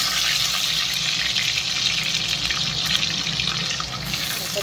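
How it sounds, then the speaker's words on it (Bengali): Chopped garlic added to hot oil in a pan while making begun bharta, a steady hissing sizzle that stays close and constant throughout. "এখন দিয়ে দিচ্ছি আমি এই যে রসুন কুচি।"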